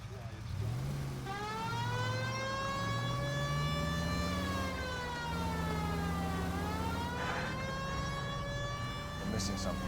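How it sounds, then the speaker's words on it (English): A police car siren wails steadily through the L.A. Noire game scene, a long rising and falling tone that stays loud and continuous for the whole stretch, with engine rumble beneath and a brief voice near the end. "We might get there quicker if you use the siren."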